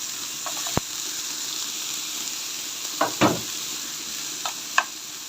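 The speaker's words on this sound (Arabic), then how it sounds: "انا هنا بشوح الخضار البانيه بعد ما شوحته شويه" Vegetables and peppers sautéing in a pan over lowered heat: a steady faint sizzle with a few sharp clicks and stirring scrapes scattered through, no talk.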